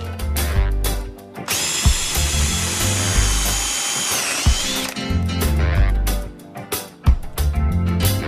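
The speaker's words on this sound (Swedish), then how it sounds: "Nu när vi har fäst upp den så kan vi skruva dit den ordentligt med 10 x 120 mm franska träskruv." A power drill driving 10 x 120 mm wood screws while building a terrace, loud whining bursts of the motor, one long sustained drive in the middle, with thumps and handling noise between.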